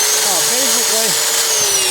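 A wire brush scours rust off a Mercedes brake caliper with a steady, close, harsh rasping that runs throughout, while a voice talks faintly over it.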